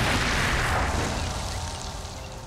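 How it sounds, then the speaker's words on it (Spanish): A controlled detonation of a landmine in Mozambique, a loud broadband blast that rumbles and slowly fades over a couple of seconds. "¡Explosión controlada lista!"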